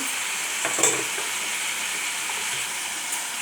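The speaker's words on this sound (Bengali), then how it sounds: "নিয়ে ভালো করে মশলাটাকে কষাবো" Spice paste for vegetarian potato curry (aloo dum), loosened with a little water, sizzles and fries in a pan, with brief scraping stirs heard over a steady, bright hiss.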